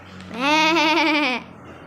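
Someone imitates a sheep with a single sustained, quavering bleat about a second long, close and clear with a trembling pitch.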